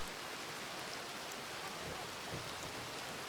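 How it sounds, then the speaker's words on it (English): Steady rain falls continuously as a soft, even hiss with a faint low patter, quiet and unbroken throughout. "let the sound of the rain carry you into a state of pure tranquility"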